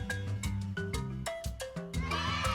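A horse neighing in a children's animal guessing game, a rising whinny with several rhythmic pulses of music-like harmonic tones over a steady low bed, loud and close, with no talk.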